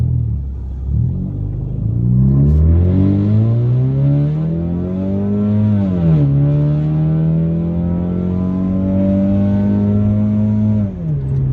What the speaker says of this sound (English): Now that's what I call an exhaust system.